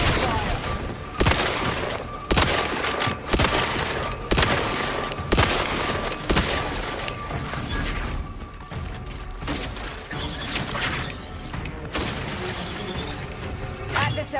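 Rapid bursts of gunfire from the video game The Outer Worlds 2 crack out in dense, repeated volleys, loud and close, with booms and mechanical clanks between shots.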